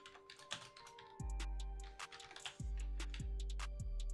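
Computer keyboard keys tapped in quick irregular bursts, close and fairly quiet, with a few heavier thuds mixed among the lighter clicks and no talk.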